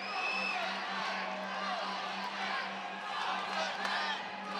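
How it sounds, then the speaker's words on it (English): Fight night crowd in an arena swells into a chant, a dense roar of many voices with whoops, while a commentator talks over it. "Crowd starting to chant."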